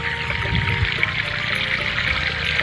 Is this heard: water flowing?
yes